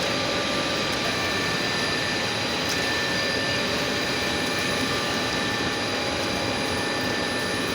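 Polythene bag factory machines running in a steady, loud, continuous industrial roar with a high whine, no pauses throughout.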